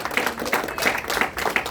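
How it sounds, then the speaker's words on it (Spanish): Applause from a church congregation during an evangelist's service, a steady patter of many hands clapping at moderate distance, continuous through the short stretch with no talk. "un aplauso al que vive"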